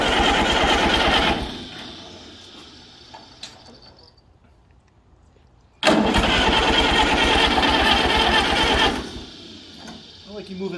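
An Allis-Chalmers WD45 tractor's starter motor cranks the engine in two loud, close bursts of rapid churning separated by a quiet gap, with people talking faintly in the background.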